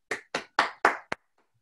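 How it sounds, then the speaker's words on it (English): A small round of applause for a guest: five sharp, separate hand claps in quick succession, close and clear, then silence. "let's give a virtual round of applause"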